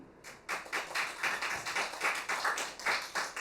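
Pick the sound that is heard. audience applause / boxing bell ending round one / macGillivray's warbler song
audience applause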